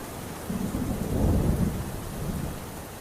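Heavy rain pours steadily outdoors with a low rumble of thunder rolling through the middle; no voices.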